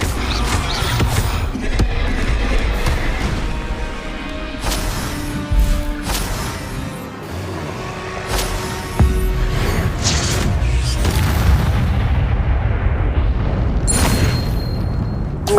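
Spell blasts and a fiery Confringo explosion in the Hogwarts Legacy video game, a dense run of loud booming bursts and crashes stacked closely over a continuous roar of game sound.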